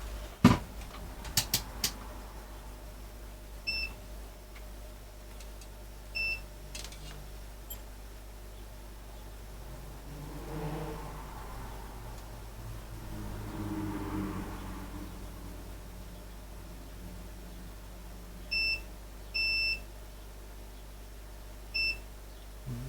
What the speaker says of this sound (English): let's just get my continuity test up, make sure I've got no shorts that shouldn't be there.